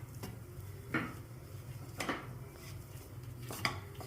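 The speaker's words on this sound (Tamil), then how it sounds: "மாங்காவும் போட்டு நல்லா கலந்துக்கிறோம்" Pieces of mango get mixed into tamarind rice in a pan, heard as a few distinct metal scrapes and clanks of a spoon against the pan over a quiet background.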